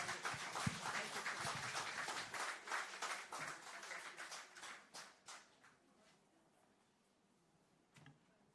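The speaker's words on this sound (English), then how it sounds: "Let's give him another round of applause." Conference audience applauding with dense clapping that holds steady for several seconds, then thins out and fades to a few scattered claps, with no talk over it.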